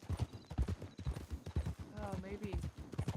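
Horse hooves clip-clop in a steady rhythm in the RedM roleplay game, close and moderately loud beneath ongoing conversation, with a brief whinny-like tone partway through.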